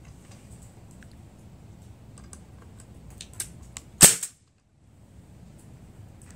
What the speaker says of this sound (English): let's see what the trigger pull is like on this guy